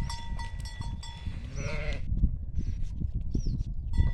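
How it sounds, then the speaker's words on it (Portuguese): Farm sheep bleat close by, several wavering calls in quick succession over low rumbling handling noise, with a few more bleats toward the end. "aqui as ovelhas bonitas."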